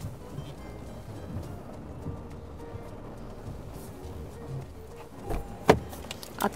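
Heavy rain falls outside on a cold day near a shop, a steady broadband wash that holds throughout, with a few louder splashes and knocks near the end and no talking.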